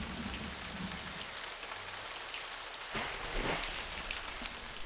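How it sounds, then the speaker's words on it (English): Raindrops fall onto tiny insects no bigger than a speck of dust in a natural setting, making a steady dense patter with a few louder close impacts toward the end. "A raindrop crashes like a bomb on these insects no bigger than a speck of dust."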